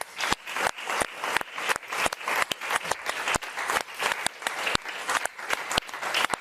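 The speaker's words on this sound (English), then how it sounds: "This group right here gets a big, old round of applause." A studio audience on a daytime talk show gives a big round of applause: loud, close clapping in rapid rhythmic bursts that surge and dip repeatedly without stopping.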